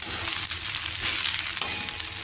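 Gongura leaves frying in a pan over a low flame, giving a steady close sizzle with faint stirring scrapes throughout and no voices.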